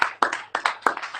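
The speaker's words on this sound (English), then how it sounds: "Round of applause for Drake" An audience clapping in sharp, uneven bursts of applause at a live event, loud and close, with no speech over it.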